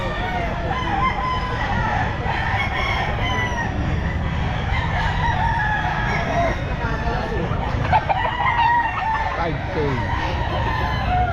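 Roosters crowing repeatedly amid dense clucking and chatter of many chickens and other fowl at a busy pet market, with people talking in the loud, crowded background.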